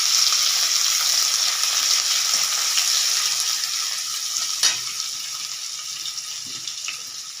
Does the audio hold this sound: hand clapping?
no